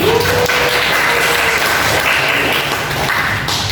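An audience claps for a presenter at a student session. The applause is a dense, loud, continuous patter that lasts the whole few seconds with no pauses.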